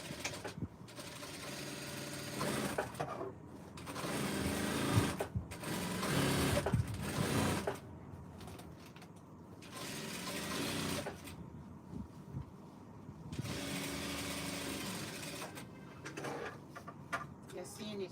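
A sewing machine stitches a party dress in several bursts of rapid mechanical whirring separated by short pauses, close up, with some talking heard during the gaps.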